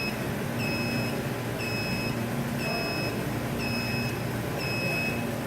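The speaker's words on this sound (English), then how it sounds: "it will beep for about 20 seconds" A plasma cleaner beeps in a regular pattern to signal its process is complete: five evenly spaced high double-toned beeps over a steady background hum.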